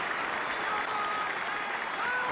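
A stadium crowd at a Hibs football match applauds and cheers in a dense, continuous roar that holds steady at a fairly even level throughout.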